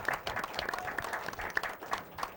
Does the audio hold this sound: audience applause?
yes